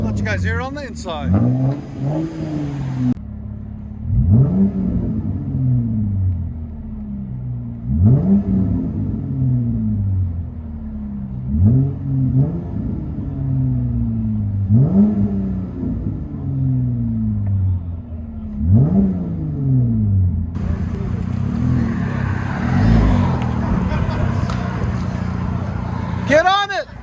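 Aftermarket exhaust on a RAM 1500 pickup with the 3.6L V6, heard from inside the cabin: a deep droning idle broken by about seven repeated revs that rise and fall, then a louder acceleration with road noise at the end.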